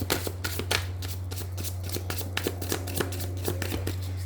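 Tarot cards being shuffled and drawn, a dense run of crisp riffling flicks and slaps close up, continuous over a steady low hum.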